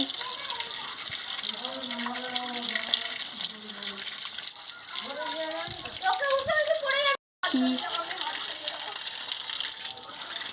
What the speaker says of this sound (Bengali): কাটা মাছটা কাটা হয়ে গেছে, এবারে ভালো করে ধুয়ে নিচ্ছি।